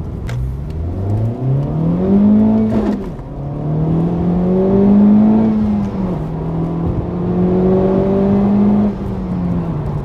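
A Honda Civic Type R FK8 accelerates hard along a road, its engine note climbing through the gears in rising revving sweeps with a brief drop at each shift, loud and close from inside the car.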